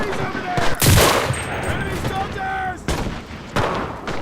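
Close rifle shots ring out in the WWII shooter Enlisted, several sharp cracks spaced across a few seconds. Electronic game tones and low battlefield rumble sit beneath them.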